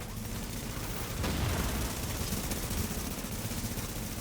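Continuous gunfire from a group PvP firefight in The Division, a dense, steady rattle of shots sustained across the whole stretch with a louder burst near the middle and no break.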